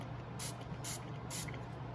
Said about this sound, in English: Spray on some of your soap.